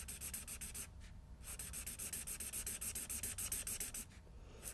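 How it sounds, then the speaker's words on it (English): A marker squeaks across paper in quick, regular back-and-forth strokes, close and quiet, with two short pauses between runs of lines. "We're going to create a checkerboard pattern by drawing lines going across."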